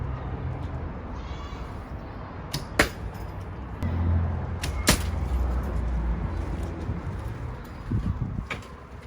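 Aluminum arrows punching through a DVD produce two sharp, loud cracks, one near the start and one midway, each brief and bright against a low, steady background rumble with no talk.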